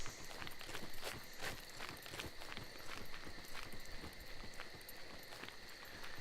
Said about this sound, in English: You hear how quiet my guy is? Because I'm running actually in the path of the road.